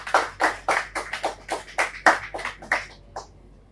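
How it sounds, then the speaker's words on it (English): An audience at a Sierra Leone creative arts panel claps to welcome a co-founder onto the stage: sparse, distinct hand claps in an uneven rhythm, fairly close, thinning out and fading toward the end. "please let's have a round of applause to welcome her on stage."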